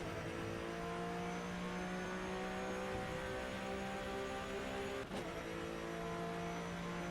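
Porsche Cup race car with a flat-six engine in the rFactor 2 sim at Circuit TT Assen, droning steadily at high revs throughout, with a brief dip and gear-change blip near the end.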